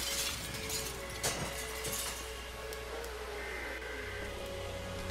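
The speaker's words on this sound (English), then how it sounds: "I guess I'm going to throw this brick at the TV glass" In The Walking Dead video game, a thrown brick smashes a TV screen's glass, giving one sharp shattering crack with a brief tinkle afterward against a low, steady background hum.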